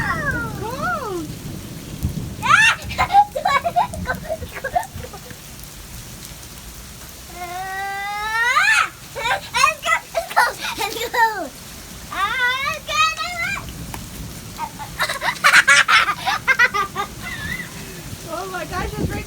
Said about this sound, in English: Oh my gosh, it's raining so fast.